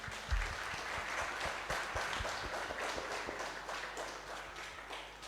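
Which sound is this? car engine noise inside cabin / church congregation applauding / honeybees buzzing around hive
church congregation applauding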